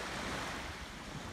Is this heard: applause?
no